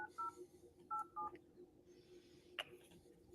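Telephone keypad dialing tones sound as a number is keyed in: several short, clean beeps in an uneven rhythm, quiet and close, followed by a brief click.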